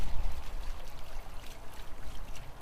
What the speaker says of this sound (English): So now we've got about 3 to 4 inches of a plume of water